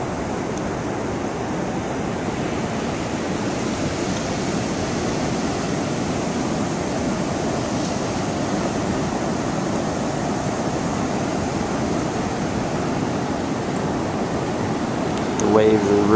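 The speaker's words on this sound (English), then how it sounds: "The waves are really nice." Ocean surf washing in continuously, a broad steady roar of breaking waves close by with wind, lasting throughout at an even level.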